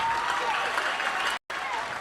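An audience at a live spoken word show applauds steadily with a dense, continuous wash of clapping, broken by one brief cut before the clapping resumes.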